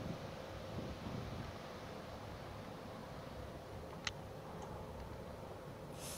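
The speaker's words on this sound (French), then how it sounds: "Beaucoup de vent aujourd'hui." Faint, constant wind rumble and hiss on the microphone, with a single sharp tick partway through and no speech.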